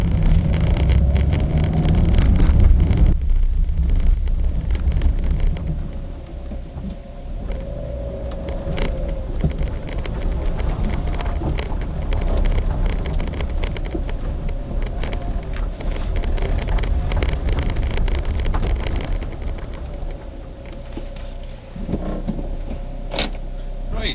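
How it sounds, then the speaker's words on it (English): Fiat Cinquecento engine idling steadily after a head gasket repair, with a faint exhaust guard rattle and a thin oil pump whine under the low mechanical hum, briefly rising early on and continuing without speech. "The exhaust guard seems to be rattling a little bit."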